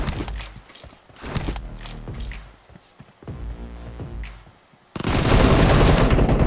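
Bursts of automatic gunfire in the video game PUBG Mobile crackle in rapid strings with short gaps, loud and close, ending in a dense continuous roar of game noise.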